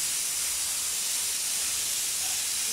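A pressure cooker on a stove, cooking rice and boiling potatoes, gives off a steady, loud hiss of escaping steam that holds unbroken for a few seconds with no talking.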